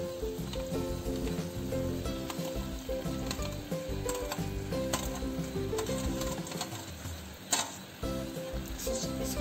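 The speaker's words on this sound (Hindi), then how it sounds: "अब हम इसमें मैक्रोनी को ऐड कर देते हैं।" Masala macaroni tips into a hot pan and gets stirred, a steady sizzle running with scraping clicks and clatter throughout, close and fairly loud over a constant background tone.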